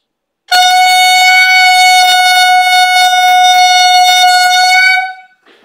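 A steady, strongly pitched brass mouthpiece buzz, loud and unbroken for about four and a half seconds before cutting off, with no talking.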